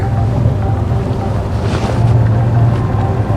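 A boat motor drones steadily below full throttle on open water, with a low continuous engine rumble and wind buffeting the microphone.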